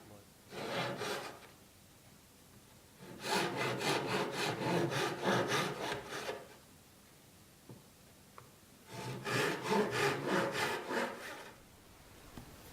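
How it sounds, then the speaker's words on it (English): A fret saw making light back-and-forth passes through the fret slots of an archtop guitar's wooden fretboard, with three separate bursts of quick, rhythmic rasping strokes split by short pauses, close and clear. "one or two light passes through the fret slots is ample to have those frets seat really nicely"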